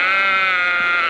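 A sheep among a nomadic herder's flock lets out one loud, close, sustained bleat with a steady wavering tone, heard alone.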